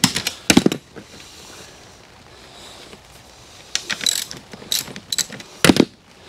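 Tensioning fixings on a polytunnel cover being loosened off the hoop, a few sharp ratcheting clicks and rattles in short bursts near the start and end, separated by a quiet gap.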